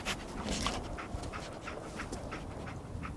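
Dogmeat, the dog companion in the video game Fallout 4, pants in quick, rhythmic breaths at close range over a low ambient hum.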